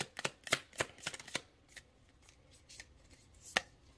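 Tarot cards being shuffled and drawn, a burst of crisp, rapid card snaps and flicks close up, then quieter rustling and one final sharp snap, with no talking.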